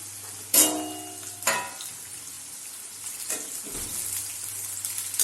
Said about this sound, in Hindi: मैंने यहाँ पर 2 ही प्याज लिए हैं तो मैं इसको एक ही बार में फ्राई कर लूंगी